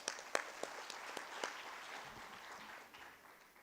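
Applause for trustees at a university convocation ceremony, with a crisp burst of distinct claps at the start that softens into a thinner, fading patter of hands from a seated audience.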